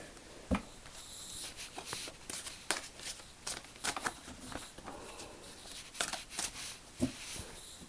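Oracle cards being shuffled and drawn, producing quiet, close papery riffles and flicks in irregular bursts, with soft taps between them and no voice over them.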